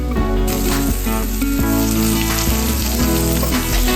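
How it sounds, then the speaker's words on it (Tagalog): Chicken breast browning in a little oil in a small non-stick pan gives a steady, close sizzle throughout, partly covered by loud background music. "Nilagyan konting mantika at pinabrown ko ng konti yung chicken."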